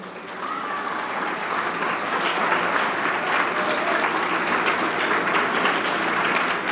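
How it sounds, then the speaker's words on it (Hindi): Steady, full applause from a crowd welcoming a guest at an event at Shri Gangaram Balkishan Modi Public School, swelling in within the first half second and continuing evenly throughout with no talk over it. "सब लोग तालियां बजाकर स्वागत करें"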